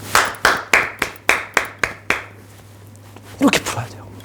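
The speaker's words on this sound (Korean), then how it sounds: "박수 한번 칩시다." A class clapping together in a lecture, eight slow, evenly spaced claps in unison, close and loud, that fade off and are followed by a short shuffle.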